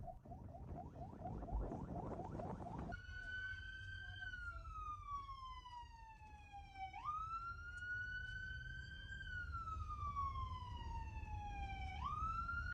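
A wailing ambulance siren in footage from Gaza, sweeping down and up in long repeated cycles after a few seconds of rough, noisy background, loud and close over a steady low rumble.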